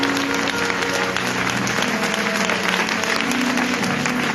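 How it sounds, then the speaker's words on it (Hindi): Loud congregational applause for the Lord at a live church service in Toba Tek Singh, many hands clapping continuously and densely, with faint tonal sounds of music or voices beneath. "जोरदार तालियां खुदावंद के लिए।"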